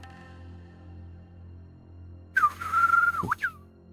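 After a quiet stretch, a person imitates a whistled phrase echoing from a tower, with a rising chirp, a held tone and a dip, somewhat distant and reverberant.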